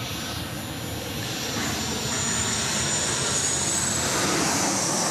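A Qantas Boeing 737 jet at Sydney Airport at night, a broad steady engine roar that builds slightly toward the end, with a thin high whine above it.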